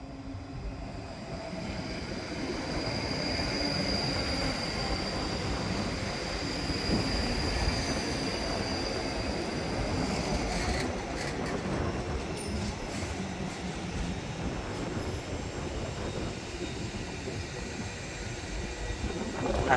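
A Class 334 electric train rumbles past at Edinburgh Park station steadily for a sustained stretch, wheels and motors droning loud and close with a faint high whine on top.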